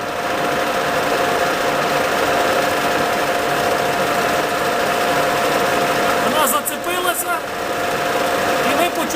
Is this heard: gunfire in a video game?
no